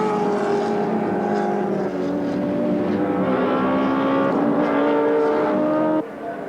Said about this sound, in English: here's Jimmy Richards, really throwing the little M3 around.